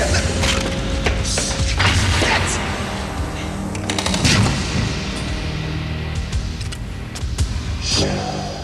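Automatic gunfire erupts amid a chaotic scene in a 1995 film, with rapid cracking bursts, splintering and crashing impacts, loud and dense throughout, and shouting voices mixed in.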